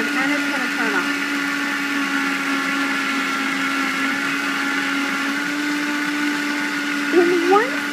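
A multi-function countertop blender that also juices, makes ice cream and hot soup runs steadily at close range, a loud constant whirring motor drone with a brief pitch wobble near the end.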